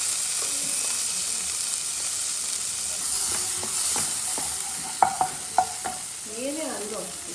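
Sweet corn sizzles steadily in a hot pan for restaurant-style pasta, a constant broadband hiss with sharp scraping and clacking stirs toward the end, close and fairly loud, with no talking.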